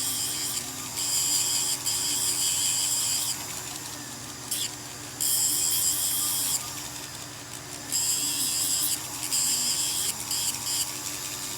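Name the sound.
sanding a ring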